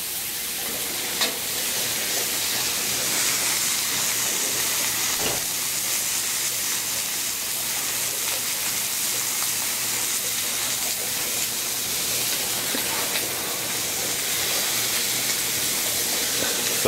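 Garlic butter shrimp frying on a flat-top griddle give a steady, loud, close hissing sizzle that runs unbroken throughout, with faint clicks and no talking.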